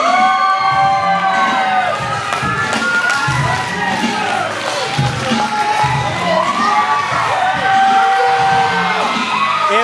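A packed arena crowd at a match cheers, yells and whoops continuously, a loud dense roar with shrill shouts rising and falling throughout.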